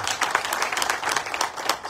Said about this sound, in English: A round of applause to our sponsors.